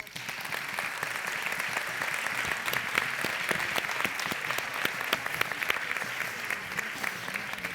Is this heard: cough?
no